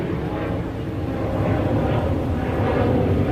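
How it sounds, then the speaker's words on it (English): A passenger airplane on approach to a New York airport passes overhead above a Queens neighborhood, a loud, broad roar that swells slightly and holds steady throughout. "There goes the plane."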